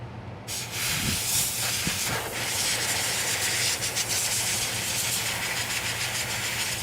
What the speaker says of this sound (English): So let's get some compressed air on it.